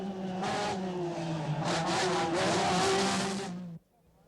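A Toyota rally car is driven sideways through a seafront special stage at Llandudno in the 1977 Lombard-RAC Rally. Its engine roars loud and close for several seconds, then cuts off abruptly.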